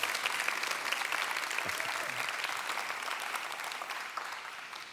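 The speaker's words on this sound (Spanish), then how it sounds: "Un aplauso, denles, por favor." A church congregation applauds in dense, steady clapping that holds for several seconds and then fades slightly, with no talk over it.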